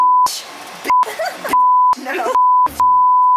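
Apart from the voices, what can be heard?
censor beeps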